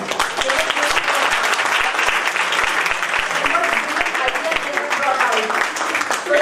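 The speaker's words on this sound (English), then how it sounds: "Let's have a big round of applause for them" Sustained applause from a conference audience at a quality management event, a dense, steady wash of many hands clapping at a loud, even level across the whole stretch.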